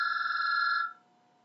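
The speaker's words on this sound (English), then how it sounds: "sorry, my phone's ringing" A mobile phone rings with a steady, loud two-tone electronic trill lasting under a second, then cuts off and leaves quiet room tone.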